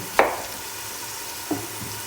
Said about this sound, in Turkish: şöyle 5-6 dakika güzel kavrulsun soğanlarımız